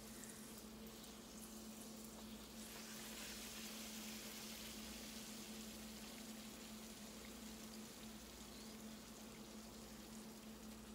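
Bengal hing kachori frying in hot oil makes a soft, continuous bubbling hiss, even and faint throughout, over a steady low hum.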